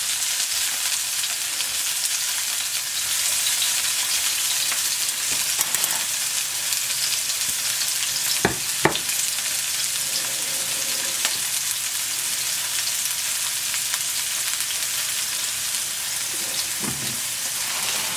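Stuffed chicken and peppers sizzle steadily in a single pan. The frying is continuous and close, with a few brief stirring clicks and no talk.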